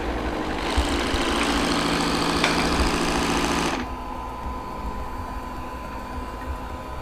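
A Shark IQ robot vacuum docks with its XL self-empty base, which runs as a loud, steady motorized whir for about three seconds and then cuts off sharply, leaving a quieter hum.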